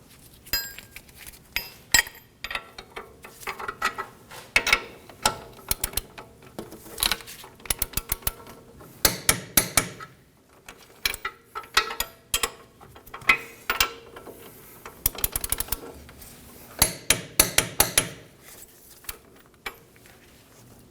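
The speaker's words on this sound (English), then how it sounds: "Now we'll torque the lower strut bolts to 114 foot-pounds." A torque wrench tightening the lower strut bolts on a 2013–2015 Subaru XV Crosstrek during front wheel bearing replacement, with repeated sharp metallic clicks and ratcheting bursts coming in uneven clusters, close and clear, and no talking.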